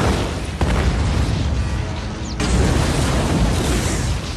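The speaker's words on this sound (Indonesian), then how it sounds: "Kate langsung melepaskan pin granatnya, melemparkan granat itu ke dalam mulut aliennya" A grenade explodes inside an alien creature's mouth in a film scene, heard as a loud, sustained blast with a sharp jolt partway through, the roaring noise filling the whole stretch without any voices.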